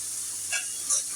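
Spice masala cooked in oil for fish curry gives a low steady sizzle, with two short scraping stirs of the pan standing out near the end.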